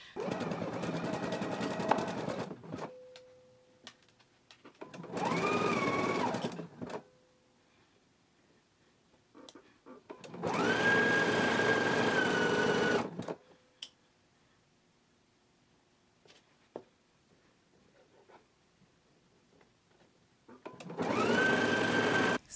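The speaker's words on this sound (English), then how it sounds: "I'm going to go ahead and stitch my sleeve now at a 5/8 of an inch seam allowance" A sewing machine stitching the sleeve of a knit dress in four separate close, steady whirring bursts of a few seconds each, with quiet pauses and small clicks between them.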